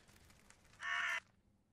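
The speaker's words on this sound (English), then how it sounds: "A murder of crows is eating eagerly." A single short crow caw in the video game The Last Door, where a flock of crows feeds eagerly, a bright harsh call of under half a second over faint background ambience.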